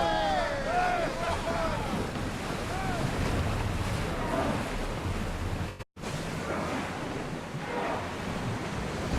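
Waves and wind wash around a ship under sail on the open sea in Assassin's Creed Odyssey, a steady surf and water rush with wind noise, and a brief dropout near the middle.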